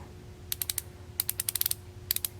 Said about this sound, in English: Well, it's a ratchet, and that looks like quarter drive.